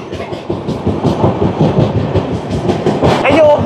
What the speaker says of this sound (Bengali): আমরা এখন কামারকুণ্ডু স্টেশন ক্রস করছি